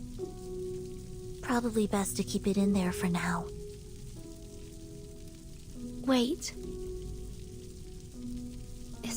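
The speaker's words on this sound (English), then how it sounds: "Is that rain I hear?" Soft, steady rain patters quietly beneath a low tonal background in the video game Reverse: 1999, while a voice speaks briefly.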